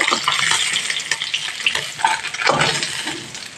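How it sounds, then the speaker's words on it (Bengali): Small puti fish fry in oil in a pan, making a loud, dense, close sizzle with crackling spatters throughout and no voices. "মাছ ভাজা হয়ে গেছে সেকেন্ড বারে ভেতরে দিচ্ছিলাম"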